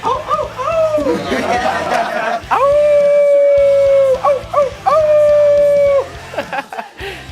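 People imitate a wolf howl at a paintball game, with loud, drawn-out wails that rise and hold, repeated a few times, with chatter and rhythmic background thumping.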